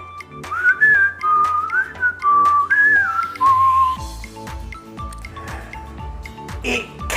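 A pet parrot kept in a cage whistles a short rising and falling melodic tune, clear and close, followed by softer clicks and small knocking sounds.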